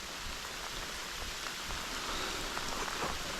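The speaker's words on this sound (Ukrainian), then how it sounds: "дощ не притихає" Steady, dense rain pours down during a spinning session for pike on Ukrainian water, a continuous close hiss of drops striking the surface with no voices or other sounds.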